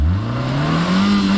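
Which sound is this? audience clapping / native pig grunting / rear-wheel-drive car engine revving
rear-wheel-drive car engine revving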